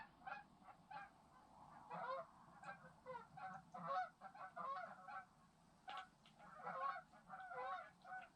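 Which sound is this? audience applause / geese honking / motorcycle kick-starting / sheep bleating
geese honking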